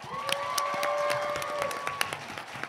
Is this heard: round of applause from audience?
yes